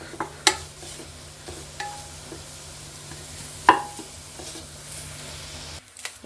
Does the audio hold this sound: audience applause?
no